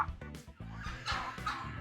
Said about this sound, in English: we have 2 guineas